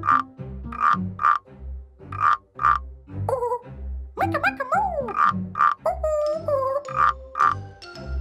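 A cartoon frog croaks in a steady series of deep, repeated croaks, close and fairly loud, broken by a playful whistling, sliding musical melody in between.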